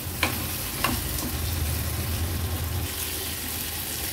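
Cleaned prawns, about a quarter kilo, being mixed in a cooking pan for an Agri-Koli style seafood dish, with a couple of sharp scraping strokes early on over a steady low sizzle and stir.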